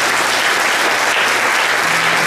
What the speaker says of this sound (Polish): Brawa dla tej publiczności.